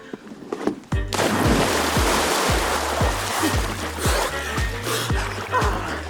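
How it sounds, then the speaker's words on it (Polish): Repeated cannonball-style jumps splashing into a cold outdoor swimming pool during a loudest-splash challenge, a heavy continuous wash of water churning loudly throughout after an opening thud, with sharp low impacts recurring and voices faintly underneath. "Kolejna konkurencja to skok do basenu. Musimy jak najgłośniej chlupnąć o wodę."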